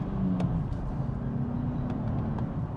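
A Nissan 400z with a twin-turbo V6 accelerates on a speed run, heard from inside as a low, steady engine drone and road rumble, moderately quiet with no speech.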